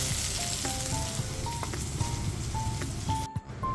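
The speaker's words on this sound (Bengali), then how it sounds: "এটাও হালকা করে ভেজে এদিক সেদিক করে নাড়াচাড়া করে ভেজে এবার এটাকে তুলে নেবো।" Boiled potatoes frying in oil and being stirred around a wok, a loud continuous sizzle with scraping stir strokes and small metallic clinks throughout.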